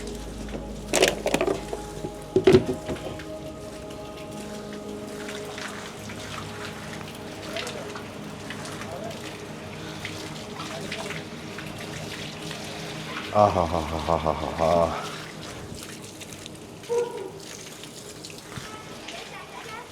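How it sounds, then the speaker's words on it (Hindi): Water from a tap pours into containers during the aftermath of the Manali floods, a low running splash that swells briefly partway through, with clatters and a short spoken word. "तो इतना पानी तो भर लिया कि आज का और कल का हो जाएगा"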